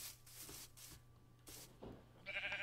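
Several short, faint sheep bleats in a video game, spaced irregularly against a quiet background, followed by a brief higher warbling sound at the end.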